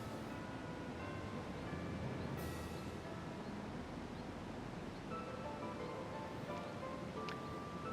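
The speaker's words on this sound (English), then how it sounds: "The ocean sounds are a little staticky, huh?" Constant staticky ocean drone from the Ravendawn video game, a steady broadband hiss of surf with faint tonal game sounds drifting through, unbroken and even in level.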